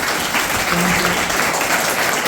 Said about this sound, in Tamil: ரொம்ப ரொம்ப பிடிச்சிருந்துச்சுன்னா நிறைய தடவை கைத்தட்டுங்க